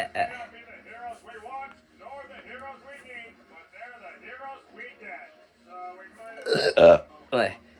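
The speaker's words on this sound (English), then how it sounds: "Apologies, everybody, for a hiccups and burps, everybody." Loud, close burps erupt near the end, after several seconds of someone talking, during a casual gaming reaction chat.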